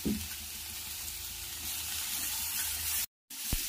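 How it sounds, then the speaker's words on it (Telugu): Onion, sweet corn and turmeric frying in a pan, a steady close sizzle running throughout with a quiet stir near the start and a short break near the end. "తర్వాత కొద్దిగా పసుపు, కొద్దిగా వేసుకొని ఫ్రై చేసుకోవాలి."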